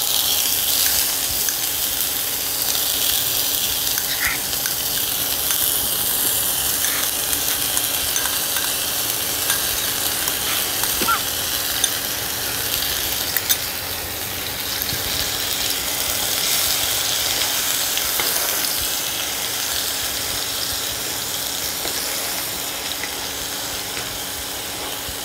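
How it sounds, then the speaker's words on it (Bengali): Onion, ginger, garlic and chilli paste frying in hot oil for a Bengali fish biryani, a steady close hiss and sizzle with occasional stirring scrapes and clicks, continuous throughout without talk. "এবার আমি তেলের মধ্যে দিয়ে দেব পেঁয়াজ, আদা, রসুন, লঙ্কার পেস্ট"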